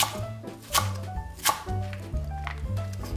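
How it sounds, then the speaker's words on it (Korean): A knife slicing green onion on a cutting board, a few sharp separate chops spaced unevenly, set against a quiet tonal music bed. "파는 길이로 반 자르고 다시 반 잘라 4등분 해주시고"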